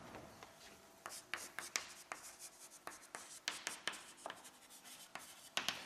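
Handwriting sounds from pen or chalk strokes on a surface, a steady run of short scratchy strokes and taps with brief pauses, close and moderately quiet, with no talking.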